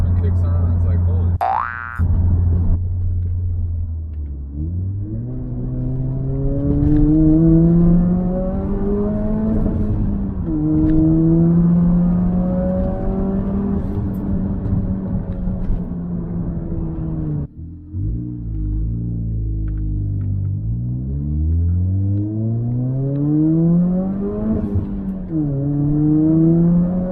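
Engine of a turbocharged Toyota Corolla on a dyno, revving up in long rising sweeps, each climbing in pitch and then dropping off, close and loud over a steady drone, with two main pulls.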